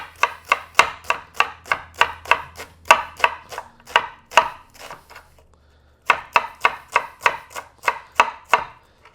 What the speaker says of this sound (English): I'm going to put a little bit of red onion, cut it in half like so, and then try and go as thin as possible